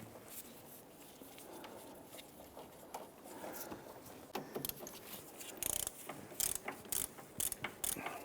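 A castle nut being threaded by hand onto a tie rod on a 1999-2004 Jeep Grand Cherokee, giving faint metallic clicks and ratchety ticks that grow into a quick series of sharper taps toward the end, close and quiet.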